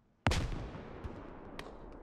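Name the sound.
grenade explosion in the video game Squad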